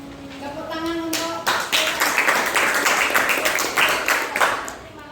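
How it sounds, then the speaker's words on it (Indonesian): A class breaks into applause, a burst of brisk clapping that runs for several seconds after a short spoken lead-in. "Tepuk tangan untuk"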